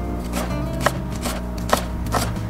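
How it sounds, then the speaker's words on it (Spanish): A knife chopping onion finely on a cutting board, close quick strokes in an uneven rhythm with a few sharper knocks, with no talking. "Vamos a picar la cebolla."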